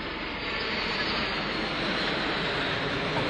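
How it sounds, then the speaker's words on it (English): Military aircraft flypast at a naval display, with a loud, steady broadband engine roar sustained throughout, overhead and close, with no talk over it. "We are mere moments away from the very first flypast."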